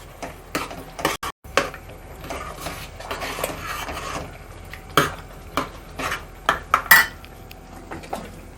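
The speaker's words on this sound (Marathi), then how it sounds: "आता हा बटाटा याच्यामध्ये मिक्स करूया चांगला" A spoon scrapes and clacks against a pan while mashed boiled potatoes are mixed into pav bhaji, a series of moderately loud, irregular metallic knocks and scrapes with no talking.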